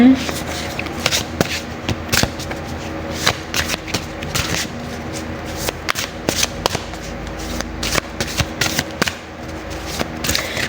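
Tarot cards are shuffled close by in repeated riffles, with sharp slaps and taps as the deck is cut and squared, while someone talks over part of it.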